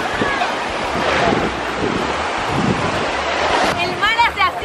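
Sea waves wash and surge at a beach, a broad, loud rushing roar mixed with gusty wind buffeting the microphone, continuous throughout, with voices calling out near the end.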